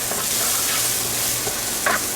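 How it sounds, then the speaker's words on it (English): Garlic fries in a pan with ground beef and vegetables, a brief loud, close sizzle with a stir or two near the end and no speech. "now I'm going to add in my garlic, and I'm going to cook that for about a minute"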